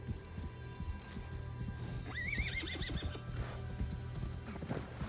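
A horse whinnies in Assassin's Creed Valhalla, a rising then wavering neigh lasting about a second, over a steady background of hoof clip-clops and ambient game noise.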